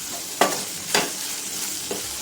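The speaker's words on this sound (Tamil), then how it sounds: "லைட்டாக இது வதங்கட்டும், ரொம்ப வதங்க வேணாம்." Grated coconut sautéing in a pan for a fish curry, three sharp stirring scrapes spaced about half a second apart over a soft, steady sizzle, close and moderately loud, with no talking.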